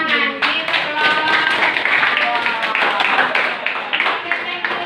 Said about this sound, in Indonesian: Oke, tepuk tangan. Give applause.